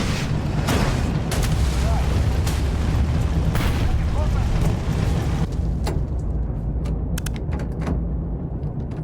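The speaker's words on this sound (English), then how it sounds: "I'm pretty sure we're getting hit by like heavy artillery" Heavy artillery shells pound down in the tank combat game Tank Squad, a dense run of loud booming blasts over several seconds with people talking over the barrage.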